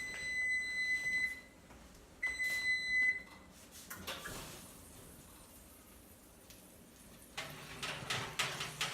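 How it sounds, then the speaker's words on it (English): A kitchen timer beeps at the end of a countdown while cooking rumaki hors d'oeuvres: two short bursts of rapid, shrill electronic beeps close by, then quieter kitchen clatter and rustling. "The timer's counting down the final few seconds."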